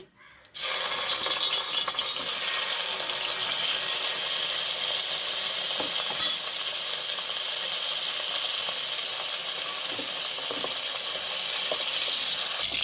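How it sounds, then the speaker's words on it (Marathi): Paneer fries in a pan for veg biryani, giving a loud, steady close-up sizzle and hiss that starts abruptly and runs unbroken, with no voices. "आपल्याला हे पनीर थोडे तळून घ्यायचे"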